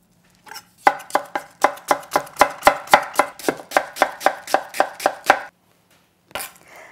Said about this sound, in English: I'm going to cut into matchsticks.